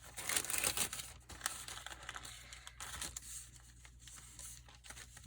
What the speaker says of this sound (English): I'm just going to fold this up a little.